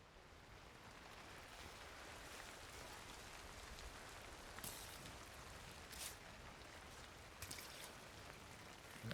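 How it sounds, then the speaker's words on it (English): Rain falls steadily on a mountainside in the rock-climbing game Cairn, an even, soft hiss of drops that keeps up throughout, with a few brief louder splashes. "And it's now raining, which means my grip is even worse."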